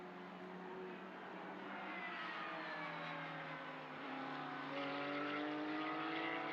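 A Vortex racing car's engine drones continuously at the Mugello circuit, its pitch sliding and rising as it accelerates, loud and steady with no pauses.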